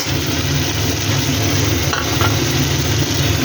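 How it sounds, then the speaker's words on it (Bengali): Crushed garlic fries in a hot pan for chilli cauliflower, giving a loud, steady sizzle with a couple of brief stirring scrapes near the middle. "আমি এই রসুনটা এবার এর মধ্যে দিয়ে দিচ্ছি দেখুন"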